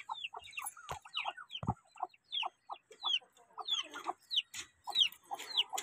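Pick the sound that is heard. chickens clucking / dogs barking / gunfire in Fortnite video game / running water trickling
chickens clucking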